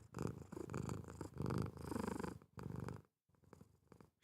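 A cat purrs loudly and close by in a steady, continuous rumble that pulses with each breath, then drops away briefly before resuming.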